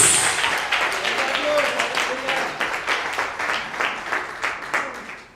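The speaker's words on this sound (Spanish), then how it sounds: "¿Por qué no le damos un aplauso fuerte al Señor Jesús?" A church congregation claps loudly during a Spanish-language sermon, a dense, steady wash of hands with a pulsing rhythm that holds for several seconds before tapering off at the end.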